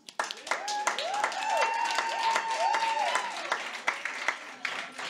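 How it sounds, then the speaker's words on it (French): An audience at a Café Campus lecture event claps in a moderate round of applause. Cheers and voices rise over the clapping, which is uneven and has distinct individual claps near the end. "on peut leur donner une bonne main d'applaudissements"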